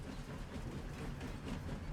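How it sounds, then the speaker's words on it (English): A steam train in Farming Simulator 25 rumbles steadily nearby, a continuous low rolling and chugging drone with faint rail clatter, no voices. "We have got ourselves a steam train."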